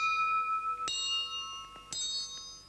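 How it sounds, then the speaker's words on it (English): Copper pipes cut to different lengths and hung like tubular bells ring out with a sustained tone, then are struck twice more, each hit a bright metallic clang with long shimmering overtones. "the most gorgeous of the percussion instruments, I think, is, of course, the tubular bells"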